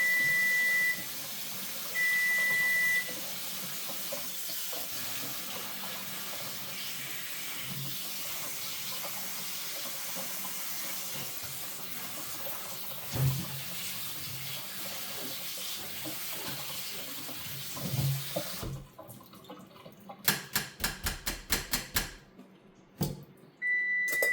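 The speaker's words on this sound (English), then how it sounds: "Just rinsing under cold water right now." Cold tap water running steadily while food for mac 'n' cheese arrabiata is rinsed at a street food stall, a continuous hissing flow with a few clinks, then splashing bursts as the water is shut off.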